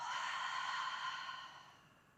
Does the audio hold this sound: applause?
no